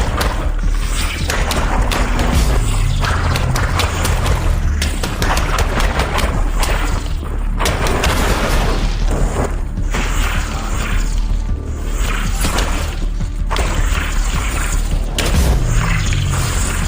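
In a VR video game, a dense barrage of loud gunfire, booms and mechanical clatter plays continuously, with grenade blasts thudding among the rapid shots.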